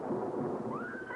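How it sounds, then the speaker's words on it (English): A short burst of rumbling thunder from a 1944 film soundtrack rolls by, fairly faint, with a thin rising tone near the end. "there was a sudden clap of thunder and the lights went out"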